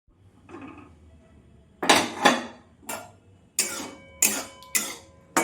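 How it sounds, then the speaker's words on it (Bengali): Whole cumin and spices being ground on a stone grinder, heard as a series of about six sharp, close scraping and knocking strokes that start faintly and grow louder, with quiet pauses between them. "আমি মশলাটা এখন বেটে নেব।"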